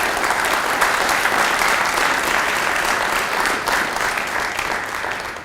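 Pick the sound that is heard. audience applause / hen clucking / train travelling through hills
audience applause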